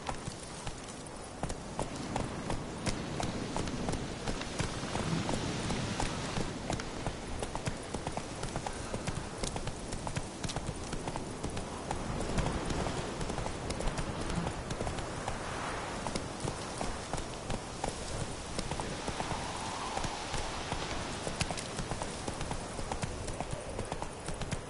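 Horse hooves clip-clop steadily in a continuous trotting rhythm throughout, fairly close, with light rain-like patter and faint background noise beneath and no clear talk.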